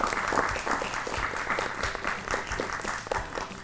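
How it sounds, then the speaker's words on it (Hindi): Studio audience applause on a children's educational TV show, a steady burst of many hands clapping that holds fairly even for a few seconds. "तालियां."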